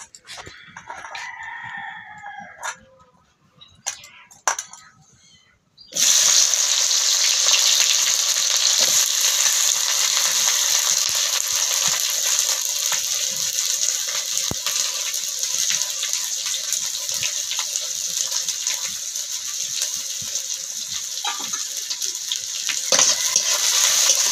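Onions frying in hot oil for egg biryani, a steady loud sizzle that starts abruptly after a few seconds of quiet handling sounds and continues unbroken to the end.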